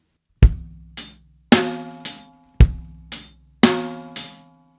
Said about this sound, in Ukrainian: Найпростіший лінійний біт звучить так.